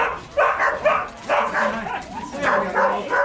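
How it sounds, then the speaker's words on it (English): Sled dogs of mixed males and females at a sled dog demonstration in Skagway, Alaska, yipping, barking and whimpering in short repeated bursts close by, with a person talking among them. "They all do make equally good sled dogs."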